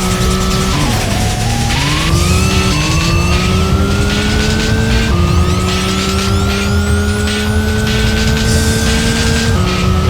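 A car engine in the video game Racing Lagoon revs loudly and continuously, its pitch dipping and then climbing through repeated gear changes, close and dominant, with no talking over it.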